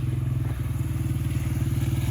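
A Honda CRF70F dirt bike is ridden nearby, its small engine putting out a steady, rapid, even chugging beat at moderate volume.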